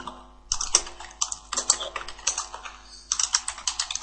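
Typing on a computer keyboard while entering an SQL query, with bursts of rapid, close key clicks separated by short pauses.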